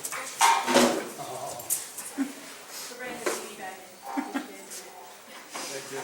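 Dogs barking and whimpering at a referee society meeting, short yips and whines scattered among people talking nearby in a room.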